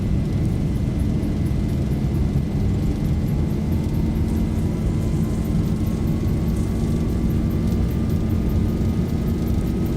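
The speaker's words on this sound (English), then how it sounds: "The auto thrust is out, so we have to do manual takeoff thrust, which is there." Boeing 737-800 engines held at takeoff thrust in a flight simulator make a steady, loud, unbroken jet roar, with a slowly rising whine across the run and no talking.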